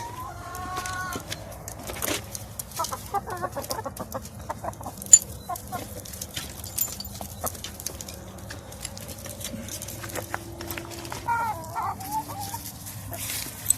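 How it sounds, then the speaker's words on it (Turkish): Chickens clucking on and off nearby as they leave the coop at a Black Sea village house, with a light patter of movement over a quiet outdoor background. "Tavuklarımızın şimdi toplu halde kümesten çıkıp organik ortamda yayılmasını seyredeceğiz."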